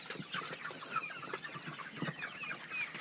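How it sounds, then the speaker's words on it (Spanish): A flock of farm-raised chickens clucking softly and continuously at a distance, with scattered overlapping calls and no talk. "Ahí están todos los pollos."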